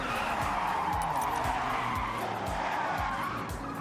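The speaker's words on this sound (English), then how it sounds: "I messed it up and slid off the road" A Honda Beat skids off the road in Forza Horizon 6, its tires hissing and scrubbing loudly while the small engine whines and repeatedly drops in pitch in quick, regular steps throughout.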